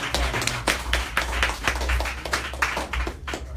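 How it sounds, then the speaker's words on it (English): At a DC community event, a small audience applauds for Amir Baker with distinct, closely spaced claps in an irregular patter, loud and near. "Let's give Amir Baker a round of applause."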